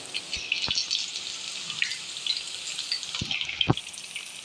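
Food fries in a pan, pieces added one by one: a steady bright sizzle and crackle with a few soft knocks of utensils or pieces dropping in, close and moderately loud.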